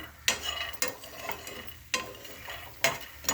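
Fox nuts (makhana) roasting in ghee in a pan, a soft frying hiss broken by rhythmic scraping strokes of a spoon stirring them, close and moderately loud.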